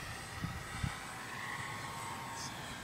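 A Cessna light airplane's engine droning at almost full throttle while overloaded and underpowered in wind, a steady distant hum with faint buffeting thumps early on.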